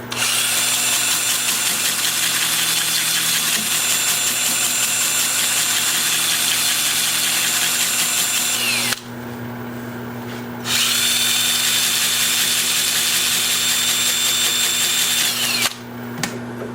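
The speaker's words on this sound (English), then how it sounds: "The lathe will be spinning in reverse at about 325." A wood lathe turning a healed-over branch section spins in reverse at about 325 while being sanded, giving a loud, steady motor hum with a constant whine, briefly interrupted once, close and alone without talk.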